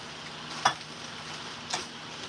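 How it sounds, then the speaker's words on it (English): A pot of Detroit style chili gets stirred, the spoon scraping twice, softly and briefly, against a steady low simmering hiss. "Stir that all up in there"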